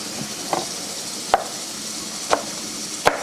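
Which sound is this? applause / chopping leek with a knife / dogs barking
chopping leek with a knife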